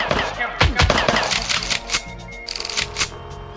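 Dual pistols firing in the video game Operation Pinkeye: a rapid, loud string of sharp shots in quick bursts over busy game sounds, with short pauses between volleys.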